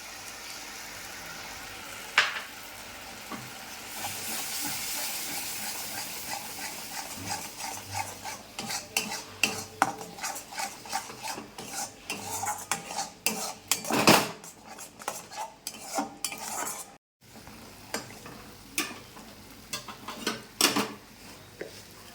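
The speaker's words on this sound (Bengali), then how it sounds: "এবার আমি দিয়ে দেব পেঁয়াজের যে পেস্টটা করেছিলাম সেটা।" Onion paste going into a pan for a Bengali cauliflower roast, with close clattering of a metal spoon against the pan and irregular scraping and stirring strokes over a steady background, briefly dropping out near the end.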